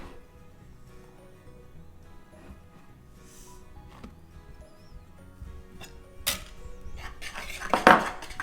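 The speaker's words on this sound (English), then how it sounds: "In a small mixing bowl, you want to mix in the flour and the baking powder." Flour and baking powder are stirred together in a small mixing bowl, giving soft scraping and light clinks of utensil against bowl that grow busier and louder toward the end.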